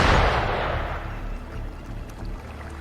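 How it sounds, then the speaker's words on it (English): Gunfire in the video game Wuthering Waves, a heavy booming blast that opens loudly and decays into a low rumbling tail, with a few fainter follow-up reports fading out. "Gunfire! We've got intruders."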